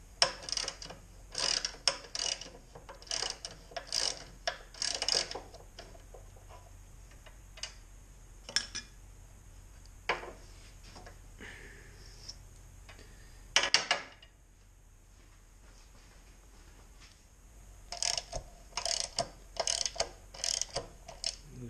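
A ratchet loosens stubborn painted fasteners on the manifold of a Caterpillar D2 crawler tractor, giving bursts of rapid close clicking separated by short pauses and a longer quiet gap, loud and sharp against a quiet background.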